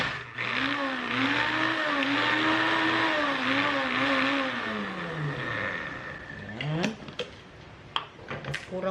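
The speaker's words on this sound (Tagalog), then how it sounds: "Dahan-dahan lang at maingat sa blender." A blender grinds pesto sauce with a loud, wavering whir that rises and falls in pitch for several seconds, then slows and stops, followed by a few clatters.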